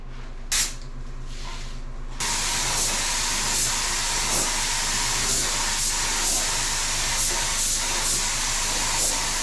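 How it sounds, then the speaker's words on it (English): A spray gun applies paint to the underbody of a 1972 Datsun 240z, starting with a brief burst and then a loud, steady hiss that runs continuously at close range. "Oh yeah, I got to spray this bottom."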